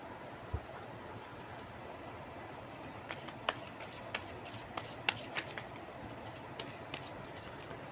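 Tarot cards being shuffled by hand, soft continuous rustling that turns into a run of crisp, irregular card snaps and clicks in the second half, quiet and close.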